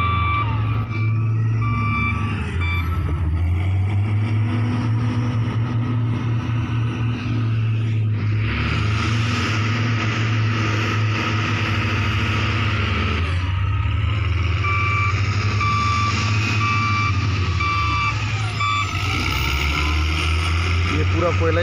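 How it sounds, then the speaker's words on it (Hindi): Loaded coal trucks move and reverse at a coal mine: a steady, loud diesel engine rumble runs throughout, with repeated reversing beeps close by and a voice heard at times. "ऊपर से देखो गाड़ी आ रहा है, कोयला लेके आ रहा है वो"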